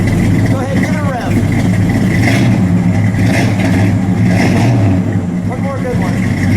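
A 1972 Dodge Demon's 340 V8 revs loudly and steadily, rumbling throughout, with people talking over it.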